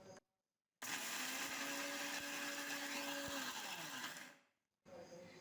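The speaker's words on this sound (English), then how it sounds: "Let's grind it. So remember, your powder has to be coarse." An electric kitchen grinder coarsely grinds spices for North Indian garlic pickle, giving a loud, close, high-pitched motor whir for roughly three and a half seconds, then spinning down, with short bursts of noise before and after.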